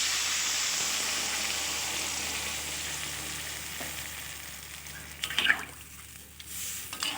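Vegetables and spices frying in a pan give off a loud, steady sizzle. Water splashes in partway through, bringing a sharp hissing surge and bubbling that then settles.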